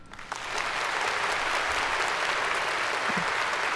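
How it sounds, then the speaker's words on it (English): Thunderous applause from a large crowd swells within the first half second and holds as a loud, dense, continuous roar of clapping. "Thunderous applause."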